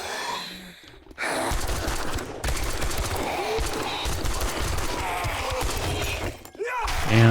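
Automatic gunfire from a machine gun in the zombie survival game 7 Days to Die rattles in dense, rapid bursts that run almost unbroken for several seconds, pausing briefly before resuming, loud and close.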